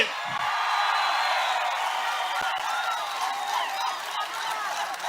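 A large crowd at an outdoor political rally claps and cheers in a dense, sustained roar that holds steady for several seconds.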